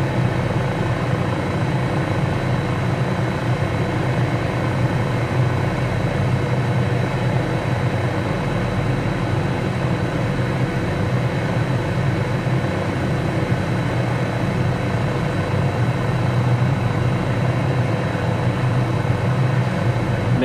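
A float-equipped helicopter in Microsoft Flight Simulator 2020 produces a loud, unbroken rotor and engine drone that holds steady the whole time, with no voices over it.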